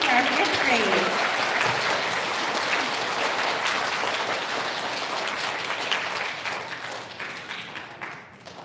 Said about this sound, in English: Big round of applause for our 5th grade.